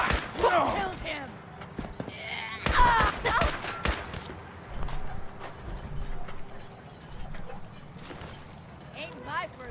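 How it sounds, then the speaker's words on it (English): Gunfire in a Fallout 4 gunfight: clustered sharp cracks and bursts, loud and close, with a dense volley near the middle and scattered shots later, mixed with game effects and clattering. "Ain't my first gunfight, Ricky."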